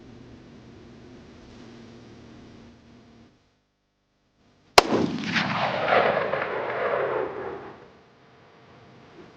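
A single loud gunshot from a Ruger American Gen 2 bolt-action rifle in .308 firing a 180-grain hunting round cracks sharply after a quiet stretch, followed by a long rolling outdoor echo that fades over about three seconds.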